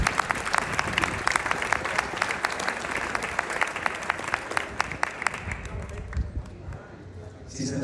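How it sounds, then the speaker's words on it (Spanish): At a book presentation, an audience applauds with dense, lively clapping that runs for most of the stretch, then thins and fades near the end as a voice begins. "Un aplauso, por favor."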